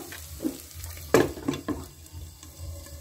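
Chicken sizzling in a pan with soy sauce, a low steady frying hiss broken by a few sharp spits and spatters, close and fairly loud, with no voices.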